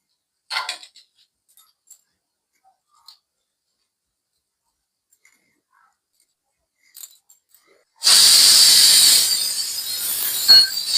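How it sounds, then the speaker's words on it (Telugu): Pressure cooker whistle hissing with steam while mango and moong dal rasam cooks: near-silence with a few faint clicks, then a loud, sustained, airy hiss that fills the last three seconds. "ఇదిగోండి నాలుగు విజిల్లు వచ్చినాయి ఇప్పుడు దించుకుందాం"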